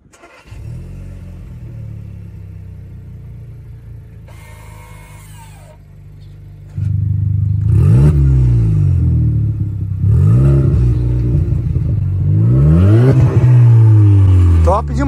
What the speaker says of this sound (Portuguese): Dá uma partida, pessoal, escutar o barulho no difusor